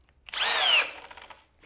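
A Flex hammer drill spins up in a short, loud, close whine that rises in pitch for under a second, then winds down, with no talk.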